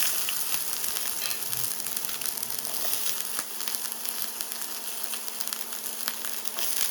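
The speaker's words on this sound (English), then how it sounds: "As you can see, it's absolutely sizzling." Bell peppers and onions sizzle steadily in a hot pan, a constant crackling hiss up close, with a few stirring scrapes and no talk.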